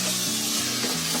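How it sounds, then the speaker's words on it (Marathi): A spoon stirs a mixture of red chili sauce, black soy sauce and vinegar in a bowl, making a steady close wet swishing and scraping for about a second, with no voices. "आता हे पहिले ढवळून घेते"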